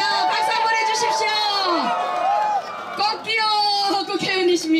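A crowd cheers, whoops and shouts at a Korean election rally, loud and lively, mixed with chatter and voices throughout in an outdoor campaign setting.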